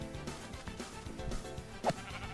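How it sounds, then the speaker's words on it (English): Minecraft sheep bleat in a game session, one sharp bleat standing out near the end over a busy, cluttered background of game sounds and music. "Tell your sheep to get over here."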